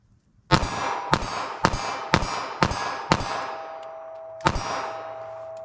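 A .32 ACP pocket pistol fires six sharp, loud shots in a steady rhythm, each with a ringing metallic tail, then a pause before a seventh shot at an outdoor range, with no talking.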